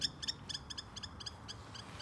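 Gulls call over a lake near the Ar-Kfitsa paragliding site in Israel, a quick, evenly spaced series of sharp, repeated cries, fairly faint and somewhat distant, with no talk.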